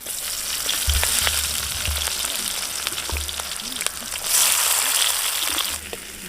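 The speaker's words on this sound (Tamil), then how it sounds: "வெங்காயம் நல்லா வதங்கிட்டோம்" Onions fry in a pan with a steady crackling sizzle, punctuated by occasional thumps and a louder hissing swell toward the end.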